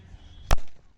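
A firecracker bursts once during a cricket game played with crackers for Diwali, a single sharp loud bang with a short decaying tail, no talk during the blast.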